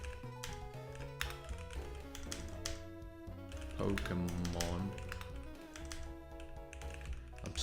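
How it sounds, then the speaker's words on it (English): Someone types on a computer keyboard in quick irregular taps, mixed under background music while a person speaks. "I'm so bad at typing with this keyboard."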